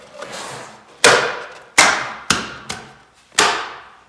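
Sharp pops and thumps as a carbon fiber pipe guard is pushed and snapped onto a 2-stroke exhaust pipe: five distinct loud knocks at irregular intervals, each fading quickly, after a softer scuffle at the start.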